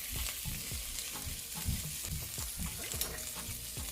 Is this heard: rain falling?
no